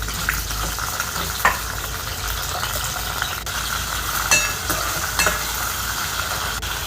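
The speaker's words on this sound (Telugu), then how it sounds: "ఆయిల్ వీటెక్కాక దొండకాయలు వేసుకొని వేయించుకోవాలి." Ivy gourds (dondakaya) fry in hot oil for a curry, giving a steady close sizzle with a few soft clinks and stirring scrapes.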